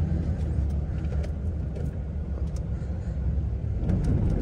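A manual Dodge dually pickup truck rumbles along under way, its engine a deep, steady, loud drone with faint rattles and clicks as gears are shifted, and no talking.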